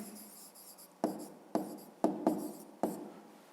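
A pen or pencil writes a math answer on paper, making a series of distinct scratchy strokes, five sharp bursts spaced at uneven intervals, close and fairly quiet with no talking.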